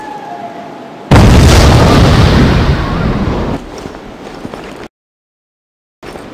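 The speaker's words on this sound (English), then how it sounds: "Detonate." Explosive detonation in the video game Devil's Third: a sudden loud broadband blast that roars and rumbles for a few seconds, tapers off, then cuts to silence.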